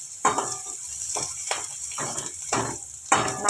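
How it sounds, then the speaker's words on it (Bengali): Onions frying in a pan, browning for a chickpea dish, with short sizzling bursts and scraping stirs recurring about every half second, close and alone. "পেঁয়াজটাকে একটু ব্রাউন করে ভাজতে হবে"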